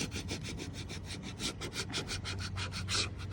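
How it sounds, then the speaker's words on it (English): A tool scrapes firmly over a freshly laid decal to press it flat, a rapid series of rough, rhythmic strokes close up and at even loudness, with no talking. "So once I get to the end, I just want to scrape over it and make sure it's down really good."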